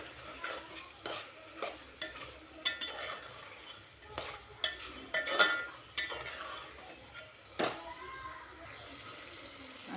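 A chicken pulao mixture of onion and chicken is stirred and sautéed in a pan, with repeated scraping strokes and clinks of the spoon over a soft sizzle at an uneven pace.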